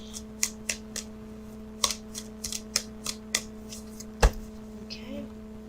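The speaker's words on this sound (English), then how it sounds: "So what I'm doing now is I'm shuffling for the outcome card." Tarot cards are shuffled by hand in a quiet room, a run of crisp, irregular slaps and riffles close to the listener with a steady low hum underneath.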